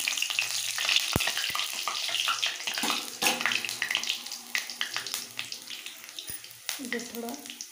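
Crushed garlic and two dried red chillies frying in a pan give off a steady, dense sizzle and crackle up close, with occasional stirring clinks and scrapes.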